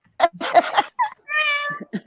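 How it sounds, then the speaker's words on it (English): A cat gives several clear meows up close, one drawn out and tonal, with short breaks between them and no talking over them. "Oh no, that's my cat."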